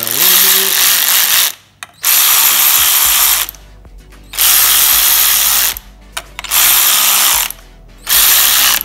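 Power ratchet tightening bolts on a Honda CRF150R dirt bike, loud close whirring bursts of two to three seconds each separated by brief pauses, four runs in all.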